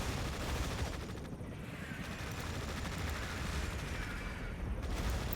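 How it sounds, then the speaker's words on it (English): Sustained gunfire and artillery from a Tom Clancy's EndWar battle crackle in dense, continuous volleys with rumbling booms, a steady, busy wall of combat noise at moderate distance. "Artillery fire on our position."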